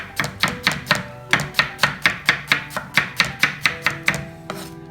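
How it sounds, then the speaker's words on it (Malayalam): A knife chops a small piece of onion on a board in a steady run of about sixteen crisp, evenly spaced strokes, close and clear with no voices. "അപ്പോൾ അത് നമ്മളൊന്ന് ചെറുതായിട്ട് അരിഞ്ഞെടുക്കുകയാണ്."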